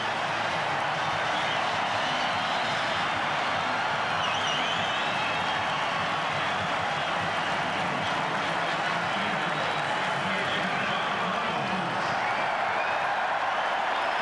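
A rugby stadium crowd roars for a Lomu try at a New Zealand Super 12 match, a steady, dense wash of cheering and applause that holds for the whole stretch.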